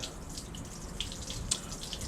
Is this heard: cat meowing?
no